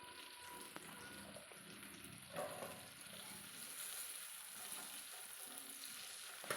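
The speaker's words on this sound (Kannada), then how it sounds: "ನಾನಿಲ್ಲಿ ಸ್ವಲ್ಪ ಹೊತ್ತು ಲಿಡ್ ಕ್ಲೋಸ್ ಮಾಡಿಬಿಟ್ಟು ಕೂಡ ಸ್ವಲ್ಪ ಹೊತ್ತು ಬೇಯಿಸ್ಕೊಳ್ತಾ ಇದ್ದೇನೆ" Ifa chicken fries in a pan, giving a steady, faint, continuous sizzle and crackle with occasional louder spits, no talking.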